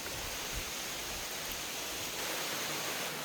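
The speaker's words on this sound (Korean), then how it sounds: "깎아지른 듯한 협곡 사이로 울려 퍼지는 폭포의 물소리는 머리와 가슴속까지 깨끗하게 정화시켜줍니다" Deungseon Falls pours through a steep gorge, a steady broadband rush of falling water that stays loud and even throughout, alone with no voices.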